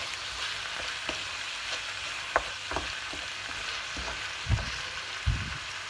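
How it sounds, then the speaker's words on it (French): Ground meat and red grapes stirred in a frying pan, a continuous sizzle broken by several soft spoon knocks and scrapes at irregular intervals. "Je mélange bien le tout."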